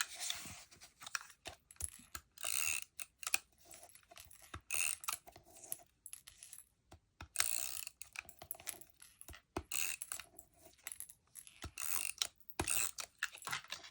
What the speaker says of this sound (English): We're going to use my little tape runner just to save time.